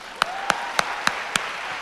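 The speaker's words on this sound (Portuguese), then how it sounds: "Aplaude sem inveja, gente." A few people in an audience at a sermon clap sparsely, five distinct evenly spaced claps over a quiet hall, with a faint tone held underneath.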